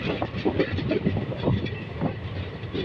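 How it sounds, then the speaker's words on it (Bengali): Steady rumble of a train arriving at a station from Howrah, rolling past close by, with soft rhythmic wheel clatter and a continuous low roar, no voices. "ট্রেনটা আসছে ACCL এর একটা পার্টের থেকে আসছে হাওড়া রিজার্ভ থেকে"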